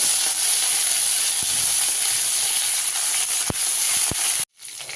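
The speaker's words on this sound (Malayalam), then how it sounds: "ഇനി നമുക്ക് വറ്റൽമുളക് ഇടാം പിന്നെ കുറച്ച് വേപ്പ വേപ്പ" Dried red chillies and curry leaves frying in hot oil for a dosa tempering give a steady, loud hiss with a few sharp pops, then cut off abruptly near the end.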